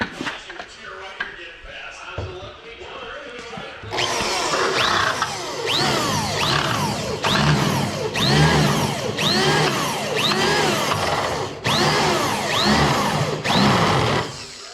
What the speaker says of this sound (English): Yeah, Brent said this drill smokes.